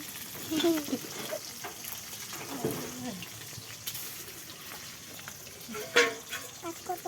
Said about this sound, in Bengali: আর ওইদিকে আমার ভাগ্নি মাছ ভাজিচ্ছে